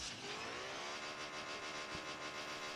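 A car engine growls and revs steadily in a Rocket League match before a kickoff, a loud, continuous meaty drone with a brief low thump near the end.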